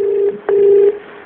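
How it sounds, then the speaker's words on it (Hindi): A telephone number being dialed for a quiz-show call, with two steady electronic tones, the second longer and louder, separated by a short click and gap. The sound is loud and clear, with no voices. "अगर वो फोन लग सके अब तो फोन लगाया जाए ताकि मैं उनसे बात कर सकूँ"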